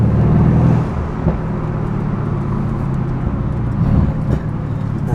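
A Mercedes-AMG V8 car downshifts while driving through an underpass in sport mode, with a loud engine roar that drops and blips, rumbling close by, without speech.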